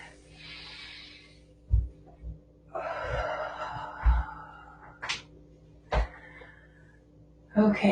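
Slow, deep breaths drawn during a gentle at-home yoga stretch, with soft airy inhales and exhales close by, broken by a few light thumps and shuffles.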